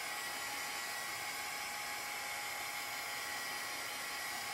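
A heat dryer blows steadily over craft paint with a constant high-pitched whirring hiss, close and unbroken throughout, and no one talking.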